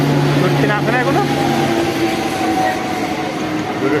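A train pulls in with a loud, continuous rolling rumble and a steady mechanical drone, close by, while voices are heard faintly at the start.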